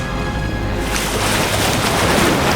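River water churns and splashes as a herd of wildebeest plunges in, a loud, dense, continuous wash of turbulent water with no voices.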